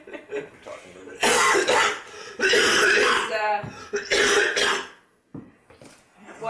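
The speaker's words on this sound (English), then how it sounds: "While you're coughing" Several loud, harsh coughs in quick bursts, close to the microphone, separated by short pauses and followed by quieter breathing.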